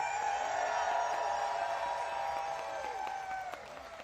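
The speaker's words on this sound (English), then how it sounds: "Take a look at this huge crowd right here in our nation's capital" A large crowd at an outdoor political rally in the nation's capital applauds and cheers, a broad steady roar of clapping and voices that eases off near the end.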